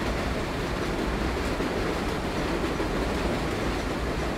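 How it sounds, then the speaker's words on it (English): A subway train rumbles past in the video game World of Subways, a continuous broadband roar with faint clickety-clack, steady and loud throughout with no speech. "I've never actually had to pass a train like this in this game."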